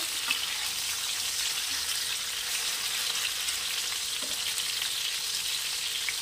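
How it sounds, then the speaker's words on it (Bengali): Pieces of bhola fish fry in hot oil in a pan, giving a continuous, even sizzle close by with no voices. "এক পিসটা ভালো ভাজা হয়ে গেছে, আমি এবার মাছটাকে উল্টে দেবো।"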